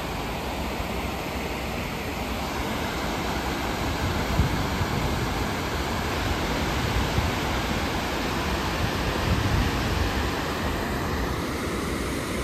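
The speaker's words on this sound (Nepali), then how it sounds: "बाँकी पानी चाहिँ यसरी सुन्दर तरिकाले चाहिँ बगिरहेको छ" Leftover irrigation water runs steadily in a broad, unbroken rushing wash that holds an even level from start to finish, with no voices over it.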